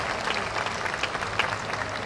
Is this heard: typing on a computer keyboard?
no